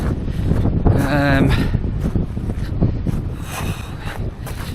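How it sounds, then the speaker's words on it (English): Strong wind buffets the microphone in heavy gusts at a campsite during a storm, roaring and rumbling throughout, with a voice talking partly underneath. "it's these really powerful gusts that are coming in"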